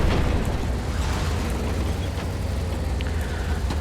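A loud, continuous rumbling blast roars through the whole stretch as a Panzer IV tank is destroyed in the War Thunder video game, with dense low-end boom and crackle and no talk over it.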